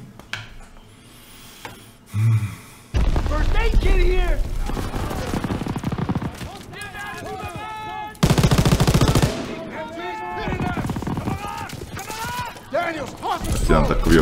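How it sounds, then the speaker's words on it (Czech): Gunfire from the World War II shooter game Call of Duty: WWII, with dense bursts of automatic weapon fire and scattered shots, loud and close, mixed with someone talking excitedly over it. "Zase někdo na mě střílí"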